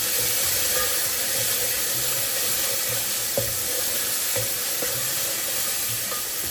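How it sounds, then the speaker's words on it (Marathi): Masala for Goan beef mince croquettes fries in a pan with a steady, loud, continuous hiss of sizzling oil and a few faint clicks of stirring, with no voices. "आतां आमचो मसाला बरो भाजलो न्हू."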